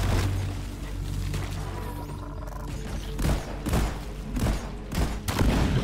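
Weapon fire from the video game Deep Rock Galactic in an elite deep dive: dense bursts and booming shots, growing louder and more clustered toward the end over a steady low rumble.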